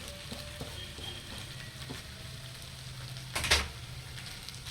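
A vegetable curry fries in a pan, giving a faint, steady sizzle, with one brief stirring clank near the end.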